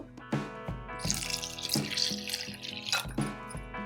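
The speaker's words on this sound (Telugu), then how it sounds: "అదే కప్పుతో రెండు కప్పుల వాటర్ వేసుకోవాలి ఫస్ట్ ఒక కప్పు వేసుకుందాము" Water pours from a cup into a bowl of cornflour in a home kitchen, a short splashing, trickling stream that swells and then eases, heard close with no talking.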